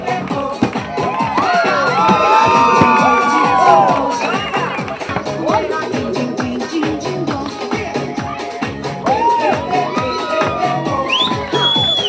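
A crowd at an outdoor summer event cheers, whoops and claps for a capoeira performance, a dense, lively roar with shouting children over a steady beat of applause.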